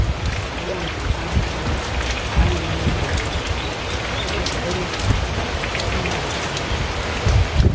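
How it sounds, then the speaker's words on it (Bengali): Heavy monsoon rain pours down during a rainy spell in Bangladesh, a dense, loud, continuous patter on surfaces with scattered sharper drops, while someone speaks faintly underneath. "ওই যে আবারও বৃষ্টি শুরু হয়ে গেছে"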